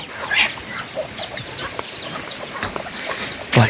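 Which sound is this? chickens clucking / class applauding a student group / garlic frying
chickens clucking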